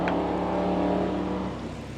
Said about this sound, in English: So you hear the cars going